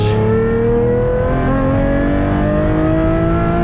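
A Lamborghini accelerates hard on the Nürburgring, its engine pitch climbing steadily in a loud, continuous close-up wail with no talk over it.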